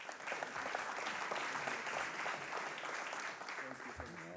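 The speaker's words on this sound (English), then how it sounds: "How about a round of applause for this guy?" Audience applause in a university hall, a steady, full wash of many clapping hands sustained for several seconds at an even level, tapering slightly at the end with a brief voice.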